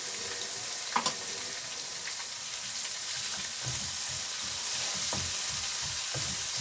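Crispy chicken pieces sizzle steadily in hot oil with garlic, a constant close frying hiss broken by a few brief clinks of stirring.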